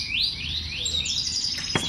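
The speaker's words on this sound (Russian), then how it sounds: "С птичками." Small birds chirp around an outdoor café in Rethymno, Crete. A run of repeated, rising, fairly close chirps carries over quiet background ambience, with no one talking.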